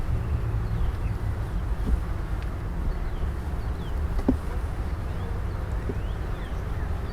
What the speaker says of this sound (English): Get out, bee. Get out of my way.